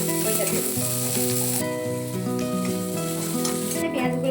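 Onions fry in a pan with black cumin, a continuous bright sizzle of hot oil with stirring, heard close up under a background of steady tonal music.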